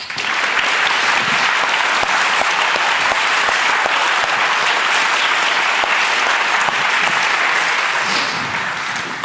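A large debate audience claps steadily through a show-of-hands vote on whether the EU will collapse, a dense, loud, sustained wash of applause that eases slightly near the end.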